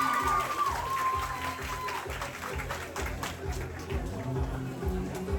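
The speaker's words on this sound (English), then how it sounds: "a round of applause for Angelica Bubu" A pageant audience applauds and cheers a contestant, with scattered clapping and whoops layered over a steady, pulsing background beat. Voices mix faintly into the crowd noise.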